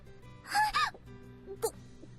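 A sharp breathy gasp from a character in the anime Princess Evangile, followed by a second shorter intake of breath, close and clear over quiet background music.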